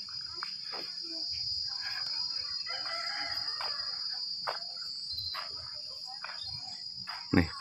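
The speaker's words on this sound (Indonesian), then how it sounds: "Nih, burung-burung." A rooster crows amid steady insect chirping and scattered bird calls in Baturaja, Palembang, with a louder crow near the end over a constant high-pitched drone.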